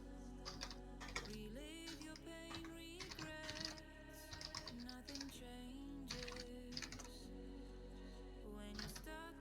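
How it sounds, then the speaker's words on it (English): Rapid typing on a computer keyboard, with dense clusters of clicking keystrokes mixed with background music and a speaking voice throughout. "Now we can test my typing speed."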